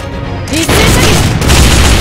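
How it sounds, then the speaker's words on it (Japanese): Volley gunfire in the mobile game Fate/Grand Order, a loud booming salvo that swells after a short lead-in and stays dense and sustained to the end, like many guns firing together. "一斉射撃。"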